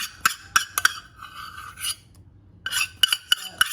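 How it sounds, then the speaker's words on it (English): Scraping peanut butter out of a jar close to the microphone, with repeated short rasping scrapes in two bursts separated by a brief quiet gap. "Scrape out your peanut butter, nut butter."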